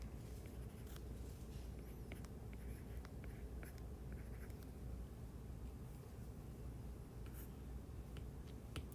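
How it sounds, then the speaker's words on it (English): A pen writes polynomial terms on paper or a board, giving faint, close scratchy strokes in short irregular runs over a low steady room hum, with no talking. "And I'll write that down here."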